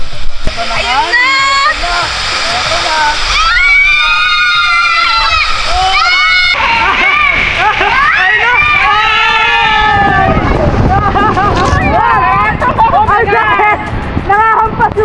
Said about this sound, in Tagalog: Nakahampas yung tubig!